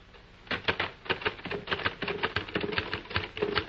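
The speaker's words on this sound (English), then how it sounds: "Patricia, sit down at the typewriter a minute. Type, now is the time for all good men. But slowly" A typewriter pecked out at a slow, uneven pace, each key strike a crisp near clack in an irregular run with no talking over it.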